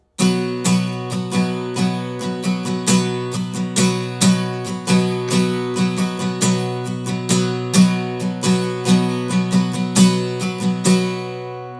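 An acoustic guitar strummed in a fast, even sixteenth-note rhythm with accented strokes, played close and loud without any voices.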